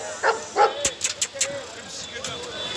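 A three-month-old male German shepherd puppy at a Friday dog market gives a few short, sharp yips and barks in quick succession, close by, while people talk around it.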